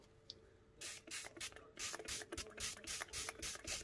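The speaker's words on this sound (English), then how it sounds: "Give it a nice spray." A hand-pump spray bottle mists a tarantula enclosure in a run of about a dozen quick, hissing squirts. The bursts are close and fairly quiet, with brief gaps between them and no talk.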